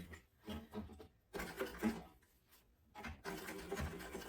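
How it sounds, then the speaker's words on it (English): A sewing machine top stitches through several layers of fabric along the edge of a sling bag, running in short bursts with pauses between, moderately close and fairly quiet. "Just top stitching that in place along the edge."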